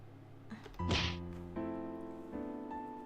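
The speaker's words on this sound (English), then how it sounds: "That karate chop sound." A single karate chop sound effect: one sharp, loud thwack against steady background music, with a faint short tap just before it.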